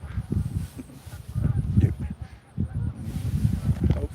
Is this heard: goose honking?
yes